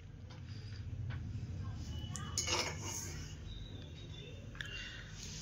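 Dishes and cutlery clinking faintly while home-style fried rice and spicy red chicken kosha are served out, a few light clinks over steady low background noise.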